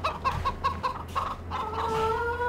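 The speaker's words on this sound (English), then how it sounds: "I have bought a few chickens as well. They're right here. Chicken!" Chickens in Farming Simulator 2013 cluck in a steady run of short, close calls. The clucks rise into a drawn-out, wavering squawk toward the end, with no talking over them.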